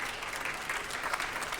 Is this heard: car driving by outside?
no